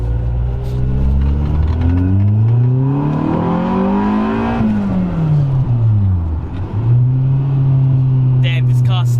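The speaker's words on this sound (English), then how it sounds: "let's see some tasty vtec now." A Honda Civic EG with a VTEC engine revs while driving, loud and close, its engine note rising steadily to a high peak, dropping on the shift, then climbing again under sustained acceleration.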